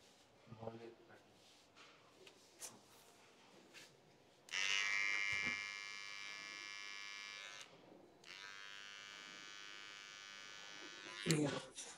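Electric hair clipper buzzing while cutting a mullet fade, struggling to cut: two loud, steady bursts of close buzzing with a short pause between, preceded by quiet rustling and faint speech.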